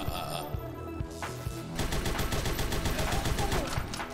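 Rapid automatic gunfire in the video game Huntdown, a dense, steady stream of loud shots that starts after a brief lead-in of quieter game sounds and continues without pause to the end.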